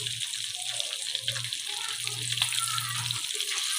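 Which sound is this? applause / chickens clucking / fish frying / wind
fish frying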